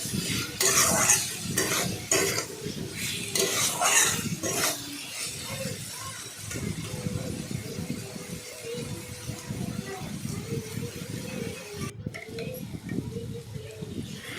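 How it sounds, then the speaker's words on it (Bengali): Turmeric frying in a pan as a spoon stirs it back and forth, with loud scraping strokes early on giving way to a softer steady sizzle and scattered clicks. "হলুদ দিলাম দিয়ে সেটাকে এদিক ওদিক নাড়িয়ে ভালো করে ভাজলাম"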